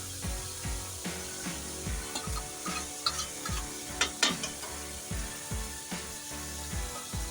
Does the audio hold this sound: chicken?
yes